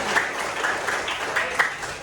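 Classroom students clapping for their classmates during a civics lesson, a moderate, fairly steady patter of many hands with a few sharper claps standing out.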